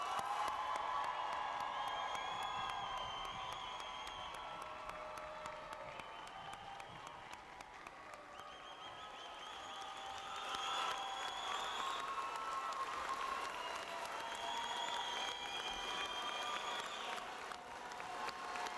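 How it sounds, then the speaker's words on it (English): A large commencement crowd gives the community college graduating class a sustained round of applause, with steady clapping, scattered cheers and whoops carrying on throughout, fairly distant. "Please join me in one last round of applause for the graduating class of 2022."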